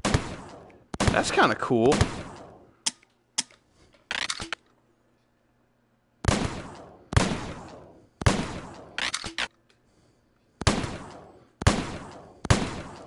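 Loud, sharp single gunshots from a gun in Rec Room, spaced out with silent gaps and trailing echoes, some fired in quick pairs; a player speaks briefly between shots.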